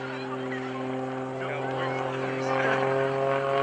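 An all carbon fiber and composite MX2 aerobatic propeller plane flies at an airshow. Its engine holds a steady, loud droning whine that swells slightly toward the end, with speech over it.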